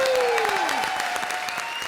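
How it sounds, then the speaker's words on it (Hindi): An audience breaks into sustained, loud applause for actor John on a comedy stage show, dense clapping throughout with a host's voice speaking over it. "जॉन के लिए एक बार जोरदार तालियां"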